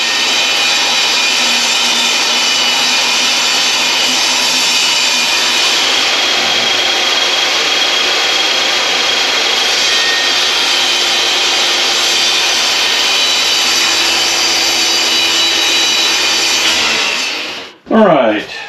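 Power saw ripping through plywood to trim an RV mattress platform, a steady loud whine that runs unbroken for most of the clip before cutting off abruptly near the end.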